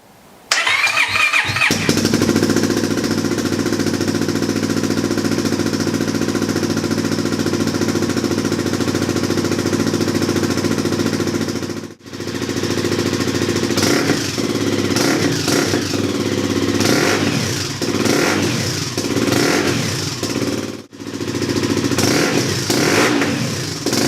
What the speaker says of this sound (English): what we're going to do is start the bike up, have a listen